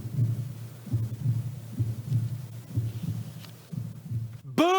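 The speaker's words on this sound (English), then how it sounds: "you can actually hear the heartbeat of the one next to you" A heartbeat thumps low and steady in regular double pulses, close and muffled, and ends in a sudden rising whoosh.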